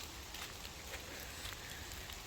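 Rain falling in an autumn forest, a soft, even hiss of drops on leaves and ground, faint and steady throughout with no voices.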